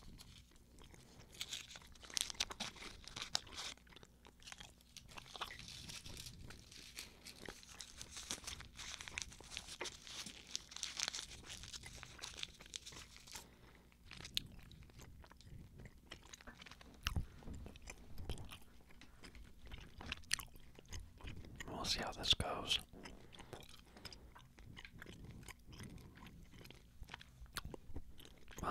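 Two pieces of gum chewed close to the microphone in an intimate ASMR session, with wet crunchy mastication, crinkling and soft smacking sounds repeating steadily throughout, loudest early and again near the middle.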